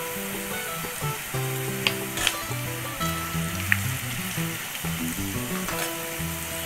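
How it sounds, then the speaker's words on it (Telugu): Onion with ginger garlic paste and turmeric fries in a pan for a bitter gourd fry, making a loud, continuous sizzle with a few sharp clinks of stirring, close by and without talk. "చూసారా ఆనియన్ ఇలా ఫ్రై అవ్వాలి।"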